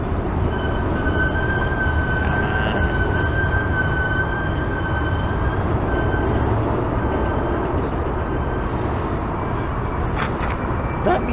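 A train rolls continuously through Cajon Pass, a steady loud rumble of wheels and cars with a thin, sustained wheel squeal running over the top for the whole stretch.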